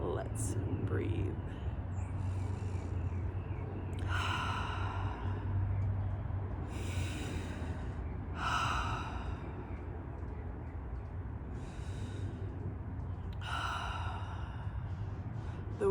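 Slow, deep guided breaths come at spaced intervals, each a soft airy inhale or exhale close to the microphone over a low steady background hum, with no speech during the exercise.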